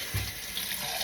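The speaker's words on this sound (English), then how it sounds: "first I rinse it off with some hot water" Hot tap water runs steadily into a sink to rinse raw oxtail, a continuous close splashing stream with no voices.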